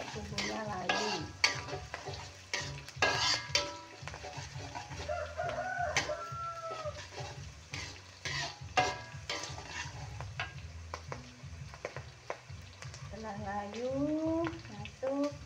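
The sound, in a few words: stir-frying spices in a pan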